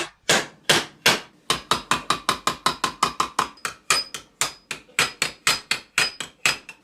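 About two dozen sharp, close hammer blows in a quick, steady rhythm, with short pauses, close a metal seam on a sheath fitting so it can be soldered, each strike ringing briefly.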